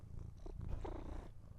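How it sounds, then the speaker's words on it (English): A cat purrs softly close to the microphone, a low rumbling purr lasting just over a second and a half, faint and alone. "could you hear her purr?"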